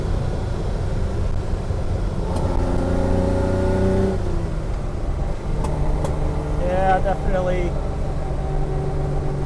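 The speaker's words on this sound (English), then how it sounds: "Yeah, you can hear it just snapping away." An old Ferrari 330 GT idles with a steady, rough drone, its carburetors spitting a few sharp snaps while a voice briefly speaks over the engine.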